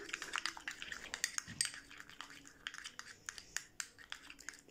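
A spoon stirring a chickpea, yogurt and honey face mask in a small bowl, scraping and clinking in quick irregular strokes, close and fairly soft.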